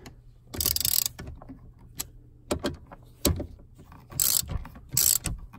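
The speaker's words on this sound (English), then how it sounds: "time to snug this. Try not to do it too tight or this bolt will break" A ratchet tightens a steering lock bolt on a BMW E39 5 Series, heard as several separate bursts of quick close clicking with short pauses between them and no talk.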